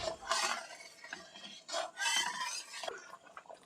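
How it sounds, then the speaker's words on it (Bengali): Semolina being stirred in a pot for halua, a spoon scraping and swishing in repeated close strokes with soft metallic scrapes, no voices. "এবার এরকমভাবে নেড়ে ছেড়ে সুজিটা আমার আস্তে আস্তে তৈরি হয়ে যাবে"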